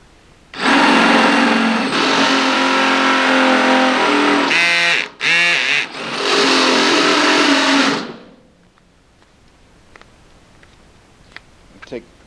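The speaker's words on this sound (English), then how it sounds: "And now we'll use our step bit" A step bit drills holes through the metal wall of a Harbor Freight parts washer, a loud continuous whining grind for about seven seconds with a brief break in the middle, then near silence with faint clicks.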